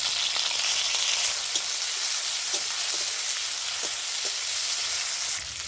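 Chopped onion and tomato hit tempered oil in a pan for Bengali potato-greens dal, giving a loud, steady close-up sizzle with occasional crackles and pops throughout.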